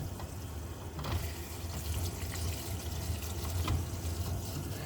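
Water rushing into a Watts Premier RO filter system as the supply valve is slowly opened, a faint, steady hiss and gurgle of filling with small fluctuations throughout.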